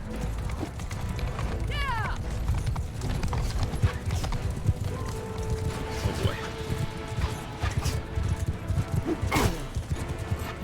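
Armored horses gallop in the Mount and Blade Bannerlord video game, a busy battlefield of rapid hoofbeats with a horse's whinny, clashing impacts and crashes, as someone talks over the action.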